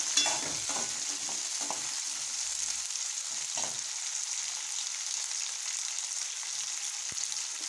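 Onions sauté in oil in a clay pot, giving a steady close sizzle with scattered stirring scrapes and clicks, busier in the first few seconds and then settling into an even hiss.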